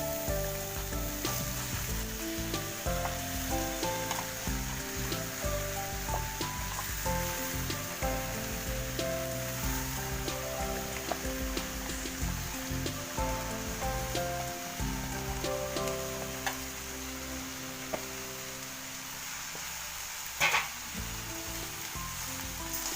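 Chopped bottle gourd added to a pan of softening tomato for a prawn and gourd curry, giving a continuous close sizzle with scattered stirring taps and a louder clatter near the end, no talk.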